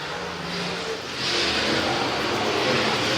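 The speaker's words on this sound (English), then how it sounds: "Is he getting ready to lap A.J. Hicks and the 1X car Victor Lee?" Race cars roar around the track at the Southern Swing finale in Richmond, Kentucky. Engines drone loud and steady with rising revs as the cars pass close by.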